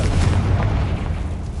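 Confringo blasting-spell explosion in the video game Hogwarts Legacy, a dense, booming burst with heavy low rumble that fills the short moment and slowly tails off.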